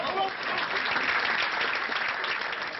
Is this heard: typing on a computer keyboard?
no